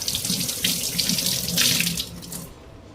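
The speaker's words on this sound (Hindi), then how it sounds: "तो तीनों को इस तरह से मैं धो लूँगी" Items are washed under a running kitchen tap, a steady close hiss and splash of flowing water, with uneven spatters as things pass through the stream, fading out near the end.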